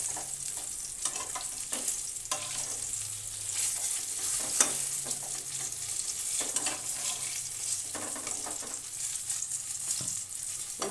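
Eggplant pieces fry in oil over medium heat, a soft continuous sizzle with occasional stirring scrapes and light clinks, fairly quiet and close with no talking.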